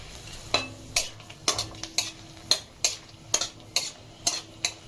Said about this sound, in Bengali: ওই তেলের মধ্যেই গোটা শুকনো লঙ্কা আর তেজপাতা ফোড়ন দিয়ে দেব